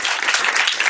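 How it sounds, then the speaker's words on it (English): Audience applause for two people being recognised before a leadership master class, a dense, steady patter of many hands clapping at once, held evenly through the whole moment with no voices breaking in. "we should give them a round of applause"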